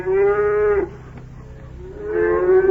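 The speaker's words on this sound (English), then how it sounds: "Why, that's a cow." A cow moos aboard an old-time ocean-going passenger liner, two long, loud, close lowing calls separated by a brief quiet pause.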